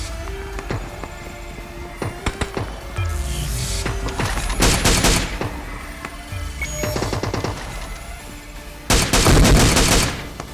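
Repeated gunfire bursts from a mobile battle royale shooter game on a Samsung phone, several loud rapid volleys spaced across the clip, the heaviest near the end, over steady game background noise.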